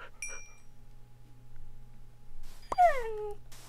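A Minecraft dog, a tamed wolf, gives a short whimpering whine near the end, after some faint clinks and sparse quiet game sounds.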